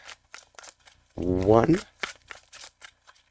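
Tarot cards being shuffled, a short riffling burst of about a second with a rising flutter, between stretches of someone talking.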